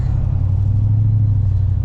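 Steady low engine rumble fills the space, a constant droning hum with no voices, like sitting inside an idling or cruising vehicle.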